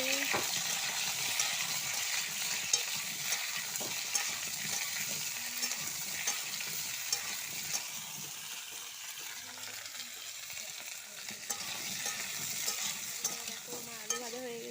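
Potato pieces with a dried red chilli, cardamom and cinnamon sizzle steadily in hot oil as they are stirred, a continuous close frying hiss with soft scraping throughout, occasional faint voice in the background.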